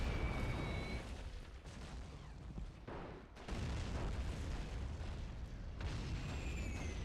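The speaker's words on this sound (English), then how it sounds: "Yup, that's our artillery support." Artillery shells bursting on a World War I Italian front battlefield in All Quiet on the Western Front, a steady rumble of booms and blasts filling the whole stretch, with whistling incoming rounds near the start and end.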